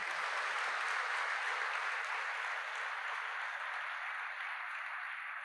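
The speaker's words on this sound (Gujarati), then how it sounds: "એ લોકો માટે જોરદાર તાળીઓ પાડી દઈએ" Students gathered in a hall for a BAPS motivational talk applaud vigorously, a steady, dense roar of clapping that holds evenly throughout without any talk.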